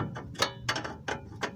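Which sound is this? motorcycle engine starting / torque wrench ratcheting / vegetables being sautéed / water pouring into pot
torque wrench ratcheting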